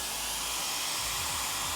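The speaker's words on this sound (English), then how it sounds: "So I turn on this hair dryer that we do have," A hair dryer running steadily at close range gives a loud, continuous whooshing roar with a low motor hum beneath it. The sound is constant and is heard on its own.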